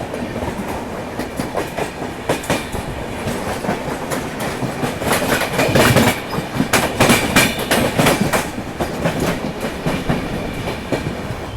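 The Karnavati Express runs on rails near Mumbai, its wheels beating out a loud, steady clickety-clack with repeated sharp rail-joint knocks over a continuous rolling rumble.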